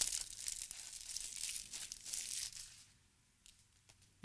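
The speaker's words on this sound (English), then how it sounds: "Let's rip this right open." A Topps baseball card blaster box being torn open by hand: close, crinkly ripping of cardboard and plastic wrap in quick bursts for a few seconds, then quieter handling with a couple of short crinkles.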